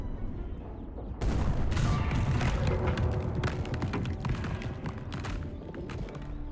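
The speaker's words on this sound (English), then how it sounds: "I heard some turrets." Turrets in Unexplored 2 open up suddenly with a loud, sustained barrage of booming, rumbling shots that continue steadily after the first burst.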